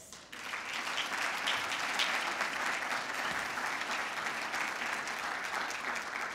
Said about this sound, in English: let's give yourself a round of applause